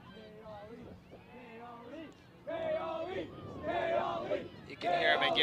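A sideline crowd at a club ultimate frisbee championship game in the U.S. Open cheers and shouts. The voices overlap and grow louder in waves, ending in a loud burst.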